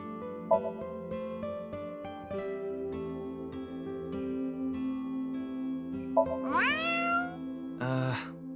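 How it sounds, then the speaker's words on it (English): A game character meows at a lucky cat statue in AI: The Somnium Files, a series of cat-like vocal calls over steady background game music, ending in a couple of rising, wavering meows near the end. "If you meow at a lucky cat statue, happiness will come your way."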